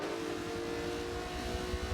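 Two race cars, a Ferrari and a Lamborghini Huracan, drag toward the finish line at a motorsport heritage festival, engines droning steadily at high speed with a sustained tonal whine, close and continuous.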